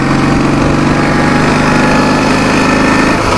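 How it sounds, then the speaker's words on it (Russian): A small motorbike engine runs steadily nearby, loud and close with a fast even putter and no talking, out in the Urals. "Вот, мотик маленько постоял и поехал"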